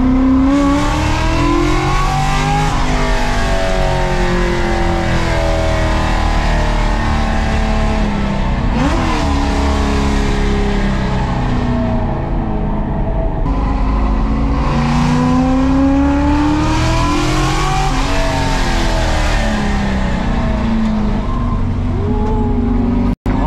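A NASCAR-inspired Ford F100 truck climbs a mountain road, its engine revving loud and close, rising and falling through repeated gear changes and bursts of acceleration with no talk.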